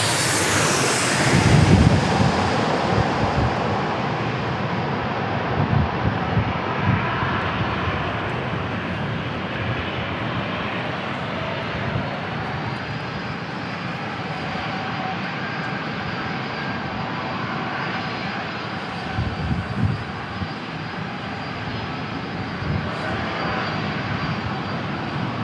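A Southwest Airlines airliner lands at San Diego International Airport, its engine roar loud and steady for the whole stretch, broad and rumbling with no voices over it.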